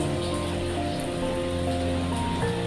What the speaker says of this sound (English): As you can see, it's raining outside